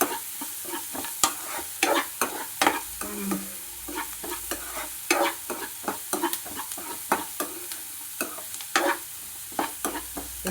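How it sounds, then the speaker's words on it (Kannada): Onions sizzle in hot tempering oil for oggarane, a soft steady frying hiss punctuated by frequent sharp spatters and crackles, with no voices. "ಈ ಥರ ಒಗ್ಗರಣೆ ಸೌಂಡ್ ಕೇಳೋದಕ್ಕೆ ಚೆನ್ನಾಗಿರುತ್ತಲ್ವ"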